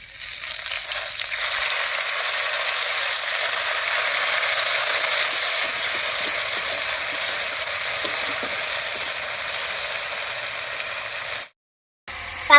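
Slit green chillies and ground spice paste hit hot oil already holding fried cumin and bay leaf, producing a loud, continuous sizzle that runs steadily before a brief cut near the end.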